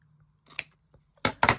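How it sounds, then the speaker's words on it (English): Scissors cut paper for a craft tag folder: a faint snip, then two louder crisp cuts close together near the end, in an otherwise quiet room. "And now I need my scissors."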